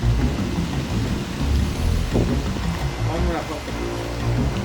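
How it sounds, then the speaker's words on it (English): Heavy thunderstorm rain roars steadily with a deep rolling rumble of thunder underneath, loud and continuous, with a brief tonal voice-like sound in the middle. "We got a Ghidorah level storm brewing up here"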